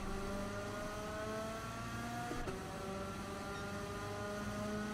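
A sim racing video game with a pack of race cars running together: a constant engine hum with rising harmonic tones and a brief shift midway, steady and unbroken throughout without speech.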